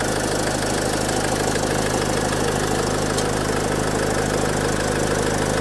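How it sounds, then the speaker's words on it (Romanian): A 2007 Opel Vivaro van's 2-litre, 114-horsepower engine idles steadily up close, a constant mechanical hum with a faint rhythmic knock and no voices. "Un motor de 2 litri, 114 cai putere."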